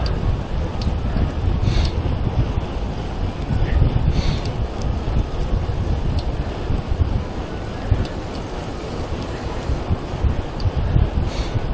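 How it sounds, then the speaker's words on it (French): Headwind buffets the microphone while riding a 50-year-old Mercier road bicycle around the Vincennes polygon, a loud, continuous low rumble with gusty swells throughout, no voices. "Le vent de face"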